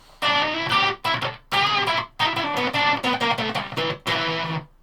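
Electric guitar with humbucker pickups played through a Gamechanger Plasma distortion pedal, giving a loud, buzzing, harmonically dense distorted tone in choppy phrases and chords broken by short silences, with no voices.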